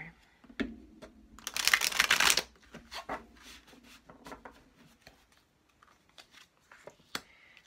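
A stiff, hard-to-grip deck of cards is riffle-shuffled close by, one dense, rapid burst of flicking cards followed by softer taps, handling and scattered faint clicks in a quiet room.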